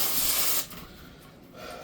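Foam glue hisses from a foam gun in a short burst during a bath surround install, a close spray that stops abruptly and leaves a faint hiss.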